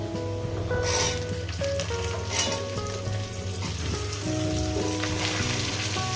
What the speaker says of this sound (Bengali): ডাটাগুলো দিয়ে ভাজবো আমি